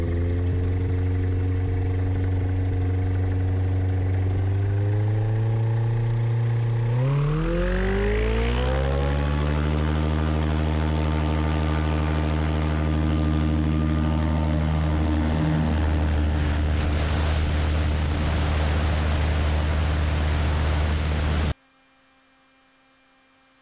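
The engine of a Kitfox 7 light aircraft runs at a steady hum, then spools up around a third of the way through into a louder, rising takeoff-power drone that holds steady before cutting off abruptly, with no talk.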